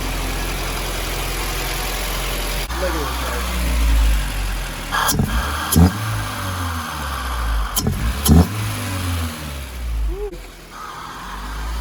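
Modified Honda Integra engine idling after a 70mm throttle body and larger intake manifold were fitted, a steady low rumble close by with a few sharp blips and someone speaking briefly.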